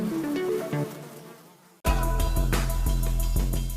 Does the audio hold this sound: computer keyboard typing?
no